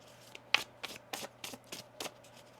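Tarot cards are shuffled in a quick series of soft riffling bursts, close and quiet, with no talking.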